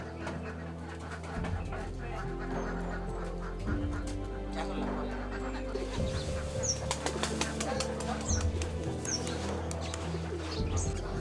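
Pigeons at a yard coop beside a rural home in Bangladesh flutter and coo, with bursts of wing flapping and soft calls over a steady low hum and general background activity.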